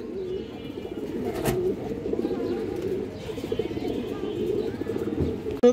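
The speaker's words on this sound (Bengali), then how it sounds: "এই যে দেখেন কবুতর" Pigeons coo softly and continuously in a loft, low, rolling calls overlapping close by, with a brief sharp knock near the end.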